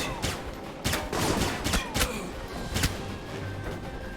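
Rapid gunfire from an action game, Alpha Protocol, as shots are fired at enemies through a cage: a dense fusillade of sharp, close reports with a few separate heavier cracks over a loud, continuous background.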